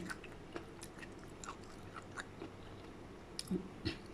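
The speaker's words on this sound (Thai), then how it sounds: "ได้ยินเสียงเคี้ยวไหมคะ" Close, quiet chewing of spicy papaya salad with fermented fish sauce and boiled sweet conch meat, with scattered soft crunches and bites, two sharper ones near the end.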